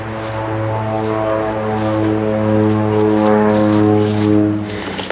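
Aircraft passing low near Glasgow Airport, a loud, close, sustained droning engine roar with a steady tonal hum that swells slightly and holds for the whole stretch, no voices.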